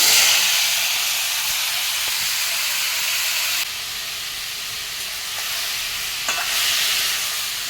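Pineapple pieces stirred and fried in oil with chilli in a pan for pickle, a loud continuous sizzle and hiss with occasional scraping stirs close by.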